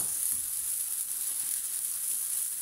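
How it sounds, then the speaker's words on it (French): Flattened bread dough cooks in a frying pan, making a soft, even, high hiss of sizzling that holds steady without any voices. "Elle aplatit le pain sur la poêle"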